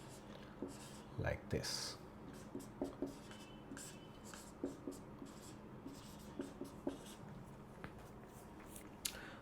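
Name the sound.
writing equations by hand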